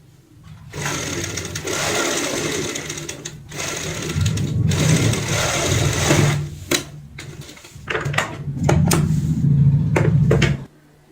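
Sewing machine stitching lace trim onto a heart-shaped cushion cover, running in several loud, steady bursts of motor whir and rapid needle clatter separated by short pauses and handling clicks.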